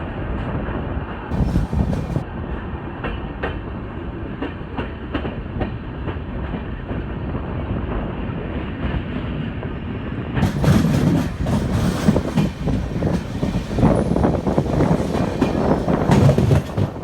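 A train on the Munnar rail journey rolls steadily along the rails with continuous rumble and rhythmic clickety-clack of wheels, growing a little louder and busier toward the end, with no talk.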